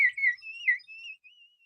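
A small water-filled bird whistle is blown in short warbling bursts, then a longer wavering trill, shrill and close with no talking.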